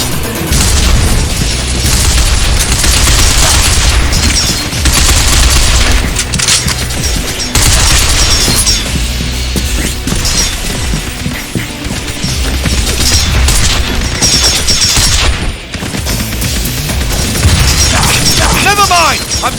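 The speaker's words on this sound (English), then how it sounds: "I'll rout the enemy with the grenade." A grenade going off in the video game Binary Domain, with loud booms and crackling blasts that fill a dense, continuous battle soundscape.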